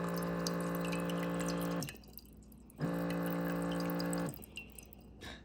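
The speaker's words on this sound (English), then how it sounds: "just kind of like a Keurig, it is dispensing water" A Baby Brezza Formula Pro Advanced formula machine dispenses water with a steady electric hum and pump whine, stopping briefly and then running again, close and alone.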